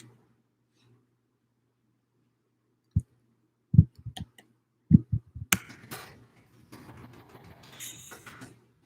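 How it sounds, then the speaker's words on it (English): Keyboard keys are tapped in a quiet room: a few sharp, irregular clicks after silence, then a busier run of softer tapping. "Can you hear all of the typing?"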